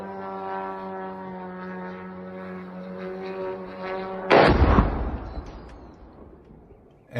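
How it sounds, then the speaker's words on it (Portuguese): A drone's steady buzzing hum drones on for several seconds before a sudden, loud, deep explosion erupts in a war setting in Ukraine, its rumble slowly fading afterward. "primeiro foi um drone, porque dá para ouvir o barulho do drone"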